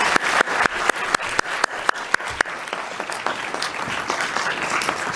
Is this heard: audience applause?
yes